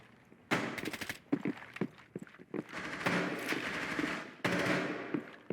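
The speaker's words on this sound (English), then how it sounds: "The Ash has like no recoil. Oh no, there's some there. Her gun's actually jumping out" Gunfire from the operator Ash's gun in Rainbow Six Siege, loud bursts of rapid automatic shots broken by short pauses, with no talking.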